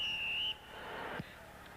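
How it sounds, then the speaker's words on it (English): At a 1988 arena football game in a hall, a referee's whistle blows one loud, shrill, steady blast that cuts off sharply, leaving crowd murmur and a dull thump behind it. "Boy, that whistle's loud, Verl."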